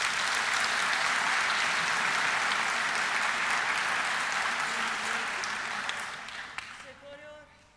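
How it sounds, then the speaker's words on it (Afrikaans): A church congregation applauds warmly and steadily for several seconds, the dense clapping tapering off near the end as a voice begins to speak. "Kan ons vir die Kruiskids ouens 'n lekker hande klap gee?"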